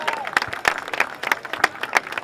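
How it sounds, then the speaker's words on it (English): Scattered outdoor clapping from a crowd at a parade on Long Island, sparse distinct claps with some crowd murmur, fairly close and moderately loud. "Our Councilman Tom Donnelly, give them a round of applause."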